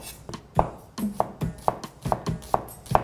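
A knife slices through an onion on a cutting board in steady, close cuts about every half second, around seven strokes in all, with no talking.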